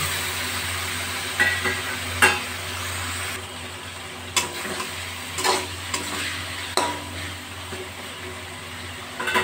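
Fried pointed gourd stirred into sizzling spices for a yogurt-based curry, a steady hiss of frying broken by repeated scraping strokes of a spatula against the pan.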